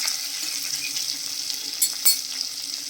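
Green chili and curry leaves fry in hot oil, giving a steady, close sizzling hiss that runs throughout, with a couple of brief louder crackles near the end and no talking.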